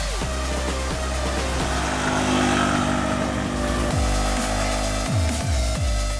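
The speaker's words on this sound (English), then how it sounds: "if you open the throttle, the bike responds fairly well" A Honda CB Unicorn 160 motorcycle engine pulls steadily and loudly under throttle, a continuous close drone with several quick pitch drops near the end as the rider shifts or eases off.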